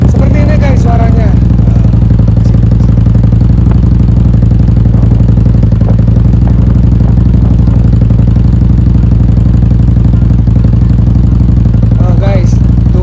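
An older Honda Vario 125 scooter engine idles loud and close in a steady, rumbling drone with slight clatter, while someone talks over it.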